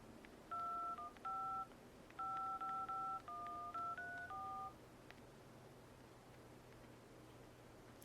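DTMF keypad tones from the phone dialer on a Sony Ericsson Xperia X10, about a dozen clean dual-pitch beeps in quick uneven succession over a soft hum, then a quiet pause.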